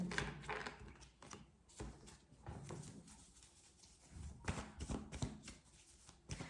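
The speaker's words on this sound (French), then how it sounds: "Je vais tirer une carte sur le 2 de bâton." Tarot cards are shuffled and drawn close up, with soft repeated riffling and flicking of card stock at a low, intimate level.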